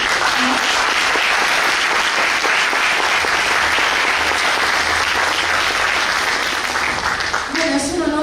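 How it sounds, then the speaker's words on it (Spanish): A church congregation breaks into loud, sustained applause, a dense wash of many hands clapping close around, with voices mixed in near the end. "Vamos a darle un fuerte aplauso a Dios."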